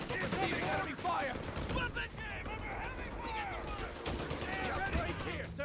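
Johnson light machine gun fire in the video game Company of Heroes 3 during a multiplayer battle: rattling bursts of automatic gunfire mixed with other battle noise, running under voices talking throughout.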